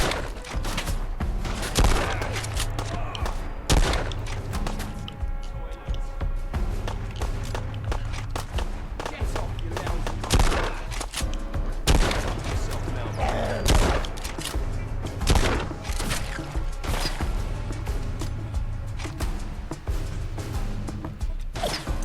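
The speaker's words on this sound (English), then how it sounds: "Okay, now I can shoot." Gunfire in the video game Fallout London, with repeated sharp shots and bursts spread across a busy game soundtrack, plus scattered footsteps and movement.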